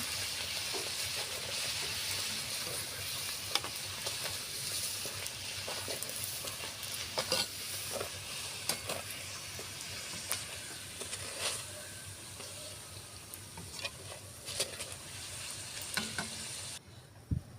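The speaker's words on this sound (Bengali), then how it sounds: "বন্ধুরা আমি এভাবে সব লুচিগুলো ভেজে নিব" Luchi fry in a pan of oil with a steady bubbling sizzle, punctuated by frequent sharp clicks and scrapes of stirring, heard up close and alone.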